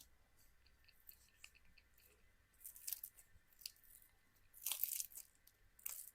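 Crunchy bites and chewing of freshly baked yeast-free puff pastry turnovers filled with cherries, several crisp crackling bursts at close range, growing louder toward the end, with no talk.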